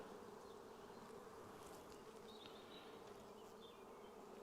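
Inside an open, crowded beehive at a Haselor apiary, a steady mass of honey bees buzzes softly and evenly, with a few brief higher individual buzzes passing close by and no speech.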